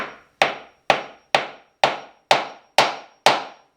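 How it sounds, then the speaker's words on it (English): A hammer strikes a wooden butt joint to break it apart: eight sharp, loud, evenly spaced blows, each ringing out briefly before the next, with no talk. "I really had to beat on here with the old hammer to get that to break"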